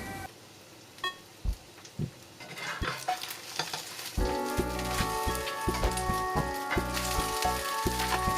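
A scallion pancake with egg sizzles loudly in a pan, with a few soft taps and stirs at first, then a sudden, dense crackling fry after it is flipped, close and steady, with no talking.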